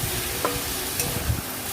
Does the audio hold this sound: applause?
no